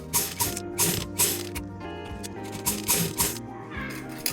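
A sewing machine stitches a folded fabric face mask, its mechanism chattering in rapid, close, rhythmic pulses that run almost continuously with small stops and starts.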